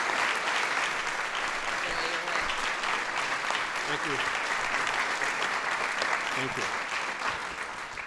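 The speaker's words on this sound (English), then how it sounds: "Let's give him a applause." At a White House National Design Awards ceremony, an audience applauds an honoree with steady, full clapping that carries on for several seconds, while someone briefly speaks his thanks over it.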